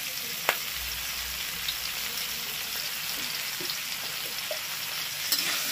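Ground cumin paste going into softened tomatoes frying in a pan, a soft continuous sizzle with a few small clicks and taps of utensils, close and fairly quiet.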